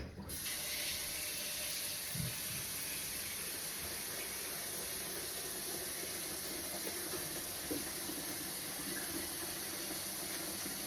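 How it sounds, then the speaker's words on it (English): Water runs steadily from a tap with a soft, constant hiss as Great Northern beans are rinsed, occasional faint clinks and splashes. "So you want to rinse those until you see no more shells coming from your water."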